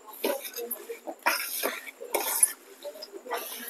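A spoon scrapes and clatters against a pot while dry mango pickle pieces are tossed with spice masala, giving a series of short, close metallic knocks and scrapes in irregular bursts.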